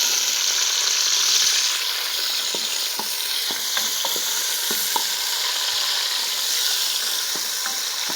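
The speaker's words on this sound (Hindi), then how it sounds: "साथ मैंने 1 अदद प्याज डाला है। और अब इसको मैं ब्राउन करूँगी" Onion frying in cooking oil in a pan as it browns: a steady close sizzle with scattered ticks and scraping stirs, continuing evenly without speech.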